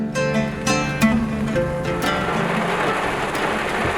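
Steady heavy rain hisses throughout outside a village resort in West Bengal hill country, with low rumbles of thunder rolling in the background and sharp drip impacts early on.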